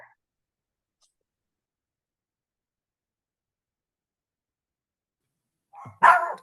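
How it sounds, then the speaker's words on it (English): A dog barks once, a short, sharp burst right at the end, heard faintly as if from another room during an online group meeting, after several seconds of near silence. "Excuse me, my dog is barking."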